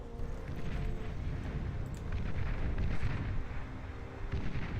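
Boomer turrets in the strategy game Beyond All Reason pound away at a hound unit, a steady stream of heavy booming blasts rolling over each other at moderate volume with no talk.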